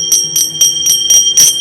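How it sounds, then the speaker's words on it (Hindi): A bell rings during a Hindu Shiv katha, six evenly spaced bright metallic strikes with sustained ringing tones, loud and close, with no talking. "घंटी भी बजाई गई।"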